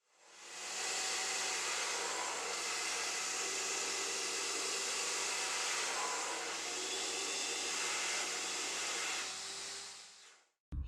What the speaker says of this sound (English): I set my blow dryer on hot and ran it all over the taped canvas